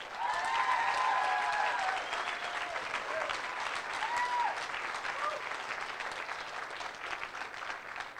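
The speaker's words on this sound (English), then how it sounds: "Let's give a big round of applause to Diane, Jane, and Julio." Sustained applause from a wedding crowd, steady clapping throughout with a few whistles and cheers rising above it.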